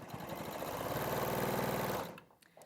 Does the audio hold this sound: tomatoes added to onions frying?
no